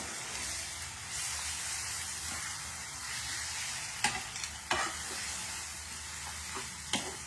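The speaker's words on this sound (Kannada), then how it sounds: "ಆರಾಮಾಗಿ ಫ್ರೈ ಮಾಡ್ಕೊಂಡು ಹೋಗ್ಬೇಕು." Food fries and caramelises in a pan, a faint, even sizzling hiss throughout with a few sharp stirring scrapes near the end, with no voices.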